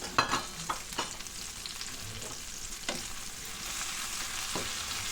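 Star anise and dried curry leaves frying in oil alongside chili and garlic: a continuous close hiss of sizzling, broken early by a few sharp spatters and stirring knocks, then settling into an even fry.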